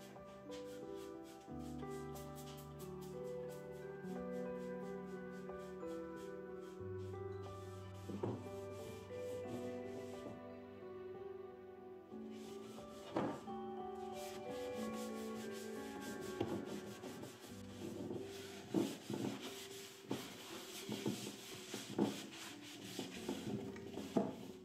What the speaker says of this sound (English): I'm going to sand it off